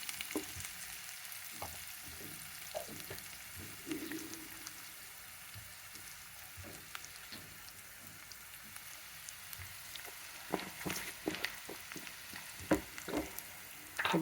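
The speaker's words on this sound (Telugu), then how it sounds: "ఉల్లిపాయలని బాగా వేగించుకోవాలండి" Onions frying in a pan while cooking pakodi majiga pulusu, a steady low sizzle and crackle lasting several seconds with scattered spattering pops that grow busier toward the end, no voices over it.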